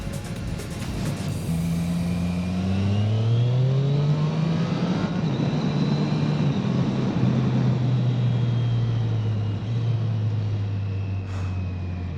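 A Triumph Street Triple 765 R motorcycle, restricted to 35 kW, drones steadily under way with its engine note rising and falling through the gears, loud and continuous with heavy wind rush.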